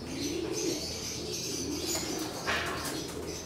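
Racing pigeons coo softly near a loft as birds return from a long training flight before a race, with a steady low murmur of calls and a faint chirp or wing flutter partway through.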